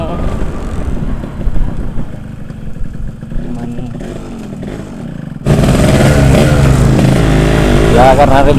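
A Yamaha YT115 trail motorcycle being ridden, its engine droning loudly and steadily with a rough, wind-buffeted character that jumps suddenly louder partway through, while someone speaks briefly over it.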